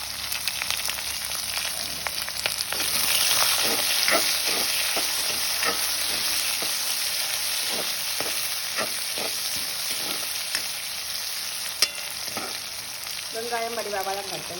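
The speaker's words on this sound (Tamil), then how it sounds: "வெங்காயம் வடிவாக வதங்கட்டும்." Onions sauté in a pan for a vegetable curry, giving a constant loud sizzle with regular spoon scrapes and stirring clicks and a brief tonal clatter near the end.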